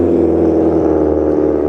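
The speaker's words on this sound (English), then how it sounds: "Oh, I've just been deafened by that car." A loud car close by gives a steady, noisy engine roar and whir under a low rumble, passing near the entrance underneath the Noah's Ark ride at Blackpool Pleasure Beach.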